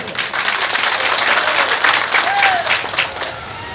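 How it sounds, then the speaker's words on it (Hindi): Loud, sustained applause from a live audience at a stage performance of film dialogues, many hands clapping in a thick, continuous wash that eases slightly toward the end, with a faint whistle-like tone briefly rising through it. "ताली थोड़ा जोर से होना चाहिए।"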